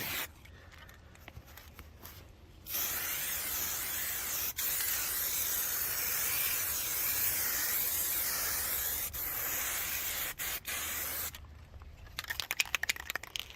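A budget spray paint can hisses on a vehicle chassis outdoors in one long, steady spray lasting about nine seconds, broken by a few brief pauses, then followed by quick clicks and rattles.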